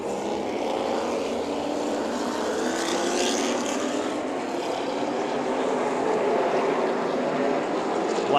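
Late model race cars restart at Orange Show Speedway, a dense, continuous roar of several engines that holds at a steady loud level throughout with no break.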